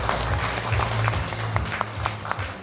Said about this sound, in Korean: 고성국 박사님한테 박수 한번 보내주십시오.